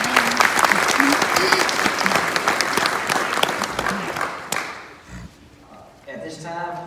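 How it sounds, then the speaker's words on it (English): Applause fills the room at a police academy graduation ceremony, dense, close clapping that fades out after about four seconds before a voice begins speaking. "So let's give everybody a round of applause."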